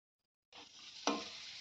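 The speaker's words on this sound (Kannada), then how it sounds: "ಎರಡನ್ನೂ ನೀಟಾಗಿ ಸ್ವಲ್ಪ ಕಲರ್ ಚೇಂಜ್ ಆಗೋವರೆಗೂ ಫ್ರೈ ಮಾಡ್ಕೊಳ್ಳೋಣ" Cashews and raisins fry in a pan for mango kesari bath, a steady close sizzle that starts after a short silence, with one louder stir or toss partway through and no voices.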